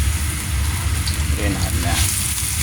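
Garlic and onion fry in a hot pan for fried rice, giving a steady, close sizzle that runs unbroken through the whole clip.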